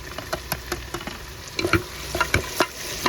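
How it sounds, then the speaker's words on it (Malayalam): Chicken and tomatoes fry in a pan for chicken madhoot while a utensil stirs them, giving repeated scraping strokes over a steady close sizzle. "നല്ലപോലെ ഒന്ന് ഇളക്കി കൊടുക്കാം ഇതിൻ്റെ കൂടെ തക്കാളിയും കൂടെ നമുക്ക് ഇട്ട് കൊടുത്തേക്കാം"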